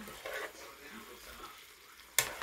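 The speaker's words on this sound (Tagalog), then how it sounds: "Kumukulo na siya." A soft, steady bubbling hiss from a pot of chicken-and-7UP sauce boiling on the heat, fairly quiet, with a sharp metallic clink near the end.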